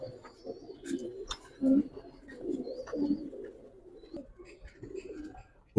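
Giribaz highflyer pigeons for sale give soft, repeated throaty coos and low rolling calls close by, in an otherwise quiet setting.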